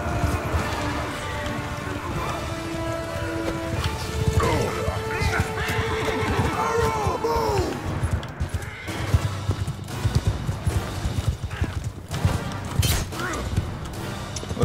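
Horses neigh and whinny over a dense, continuous rumble of galloping hooves during a cavalry charge in Mount & Blade II Bannerlord, loud battle noise throughout with a voice speaking over it.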